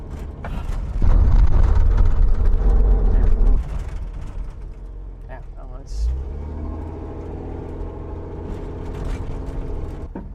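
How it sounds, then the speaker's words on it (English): A car at a Hot Wheels Legends Tour event in Detroit gets up to speed with a loud low engine rumble, then brakes hard. Engine noise continues more quietly after the stop, and people talk over it. "Get going here and just wail on the brakes in a second."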